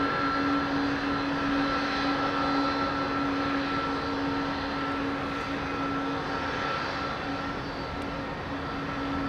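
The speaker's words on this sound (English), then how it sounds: "This one's going to go up like Richard Branson's rocket." A Boeing 767 jet taking off from runway 27R at London Heathrow gives a steady, fairly distant engine roar with a high whine, holding constant throughout with no talk.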